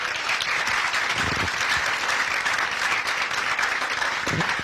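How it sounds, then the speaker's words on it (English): A crowd at a University Club event applauds the contestants with loud, dense, sustained clapping that carries steadily throughout. "Let's give them a huge round of applause."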